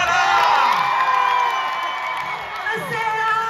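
A live concert crowd at an Italian pop tour show cheers and whoops loudly as the duo take the stage, with shrill screams and yells layered over a dense roar of clapping.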